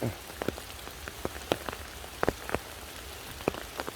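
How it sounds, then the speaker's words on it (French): Rain falls during a walk outdoors while foraging, with a soft steady hiss broken by irregular, distinct drops tapping nearby surfaces. "sous la pluie"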